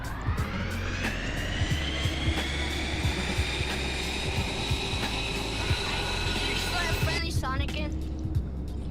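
Airplane engine roaring steadily during flight in the VRChat video game, a loud continuous drone with a shift in tone near the end, with occasional voice underneath.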